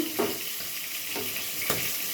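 A spatula stirs kachki fish chorchori, a small-fish curry, in a pan, its scrapes sounding every second or so over a constant close sizzle, with no talk.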